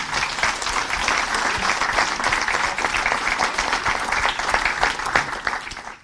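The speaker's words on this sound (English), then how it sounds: "Just give a clap to everyone" A conference audience applauds in a dense, continuous burst of clapping that holds steady throughout, fairly loud and close.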